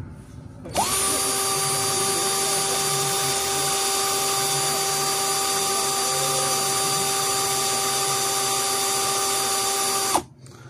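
An Asteel 21V cordless drill spins at its lowest speed setting, a steady high-pitched motor whine with a tonal hum that starts abruptly, holds level for about nine seconds, then cuts off.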